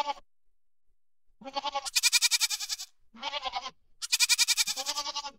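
Sheep or goats on a farm bleating in close, loud calls, several wavering cries separated by short silences.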